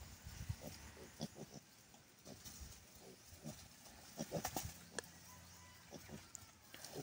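Pet wild boar on a farm giving repeated short grunts and snorts in irregular bursts, fairly close, with some rustling and faint background noise between calls.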